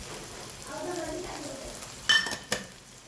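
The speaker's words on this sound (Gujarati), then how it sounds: "ગાંઠિયાનો ભૂકો સરસ મિક્સ કરી લઈએ" Gathiya crumbs being stirred and mixed in a pan make soft scraping and shuffling, then two sharp utensil clinks against the pan near the end. A faint voice murmurs briefly early on.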